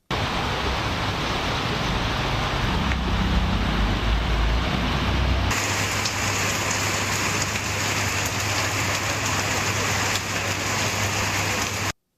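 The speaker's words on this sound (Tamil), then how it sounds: "பல்வேறு பகுதிகளில் 3 மணி நேரத்திற்கு மேலாக கனமழை வெளுத்து வாங்கியது" Heavy rain pours down in Edappadi, Salem district, Tamil Nadu, a dense, steady hiss of drops drumming on surfaces, loud and unbroken, with a low rumble in the first few seconds.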